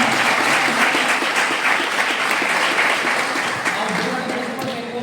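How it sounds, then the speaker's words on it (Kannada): Steady, dense applause from an audience welcoming a guru at a spiritual organisation's Koti Gayatri japa gathering, filling the whole stretch and easing slightly toward the end. "ಎಲ್ಲರ ಚಪ್ಪಾಳೆಯೊಂದಿಗೆ ಗುರುಗಳ ನಮಸ್ಕಾರ"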